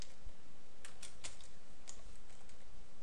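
Fingers type a roll number into an Excel sheet on a computer keyboard, a quick run of light, close keystroke clicks over a steady background hiss.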